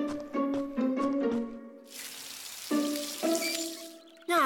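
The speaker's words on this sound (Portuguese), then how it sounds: "eu abro uma torneira e olha! Adivinha só? Sai água dela!" Water gushes from a tap in an animated show. The steady, hissing rush lasts about two seconds, with melodic tones sounding before, during and after it.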